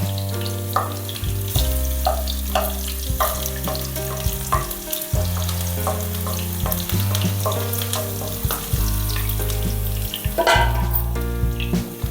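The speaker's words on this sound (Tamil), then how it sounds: "இப்போ பூண்டு சேர்த்துக்கலாங்க. பூண்டை நல்லா வதக்கலாம்." Garlic dropped into well-heated oil for a vegetable noodle dish, frying with a loud continuous sizzle and frequent stirring scrapes, close up with no voices.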